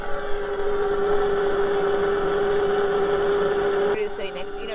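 A Webasto Airtop 2000 STC gasoline heater runs without its exhaust muffler, giving a steady, loud droning hum with a sharp constant tone; near the end a brief clatter of other noises breaks in.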